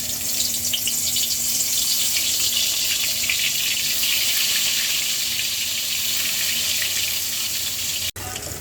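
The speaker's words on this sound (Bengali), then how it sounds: "এখন কাঁকরোলটা ভেজে নিব" Teasel gourd (kakrol) slices fry in hot oil, a dense, even hiss of sizzling that holds loud and unbroken, with one sharp tap near the end.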